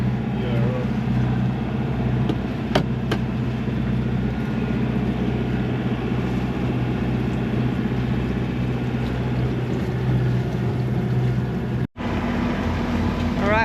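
A sailboat motors home into a rough 15-20 knot headwind, its engine a steady low drone with wind and water rushing around the hull, continuous and close, with a couple of brief knocks.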